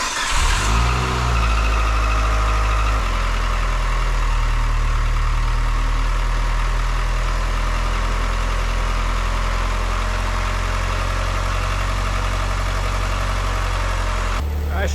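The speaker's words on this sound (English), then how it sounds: "All we got to do now is crank her and check for leaks." A Mitsubishi Evo 9 engine, freshly reassembled after drivetrain work, cranks briefly with a few starter pulses, catches, and settles into a steady, loud idle close by, with a short louder burst at the very end.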